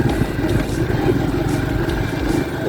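A Honda Pop 110 motorcycle engine with a worn camshaft bearing runs steadily nearby, a loud, even rumble with a light mechanical clatter throughout.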